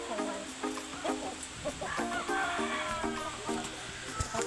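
Laguna Pumpkin Sweater gamefowl cluck and murmur in short repeated calls close by, mixed with faint background noise and a voice speaking.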